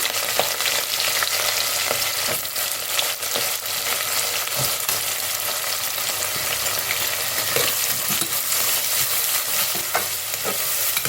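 Sliced large onions and green chilies frying in a pan as they brown for tomato rice, a steady close sizzle broken by scrapes and taps of a stirring spoon.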